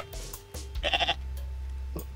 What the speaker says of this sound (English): left bumper makes goat noises.